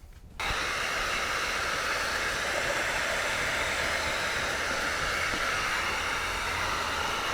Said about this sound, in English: We'll go across the top with the heat gun and the blue hook towel with the lid coat card.